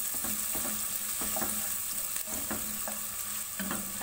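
Onions sizzle and fry in hot oil in a pan for a bhuna chicken curry, a steady close crackle with periodic stirring scrapes and no voices.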